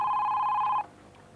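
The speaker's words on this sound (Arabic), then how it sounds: "رن التليفون." A telephone rings with a steady electronic trill for under a second before it stops, close and clear, with only faint room noise afterward.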